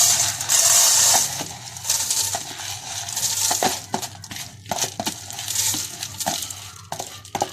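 Dry whole mung lentils rattle and patter into a metal pot, a steady hiss of grains with scattered clinks, close and fairly loud.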